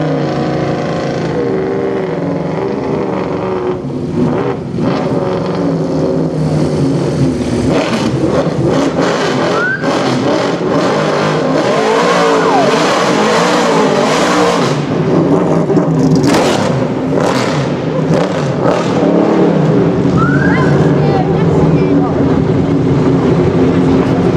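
Naturally aspirated V8 of a rear-wheel-drive Nissan GT-R GT1 race car in a Need for Speed game, a loud sustained engine roar rising and falling through gear changes, with a voice talking over it throughout.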